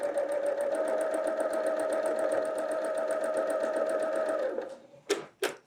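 Sewing machine stitching a quilt block runs in a steady, fast, even whir for several seconds at close range, then stops, followed by two short rustling or handling sounds.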